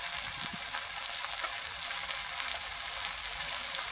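Spices with turmeric and chili powder sauté in a pan for Maharashtrian matki usal, giving a steady close sizzle and fry hiss with no pauses.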